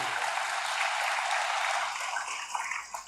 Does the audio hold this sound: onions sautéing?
no